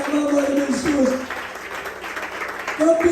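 Church congregation applauding during a Filipino sermon, steady broadband clapping filling the clip while a preacher's raised voice carries over it near the start and end.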